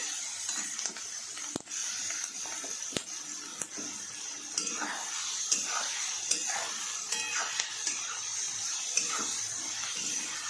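Onions and tomatoes fry in a pan over a medium flame, giving a steady close sizzle broken by sharp clicks and scrapes of a utensil stirring against the metal.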